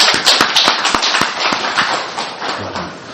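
A church congregation gives a pastor a round of applause, with sharp individual claps over a dense clapping wash, loud and close, fading slightly toward the end and with no speech.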